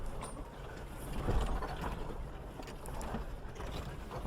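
A Toyota off-roading in 4-low first gear, with its ATRAC traction control fluttering as a continuous rattling, ratcheting mechanical chatter over engine rumble, loud and close, with no talking.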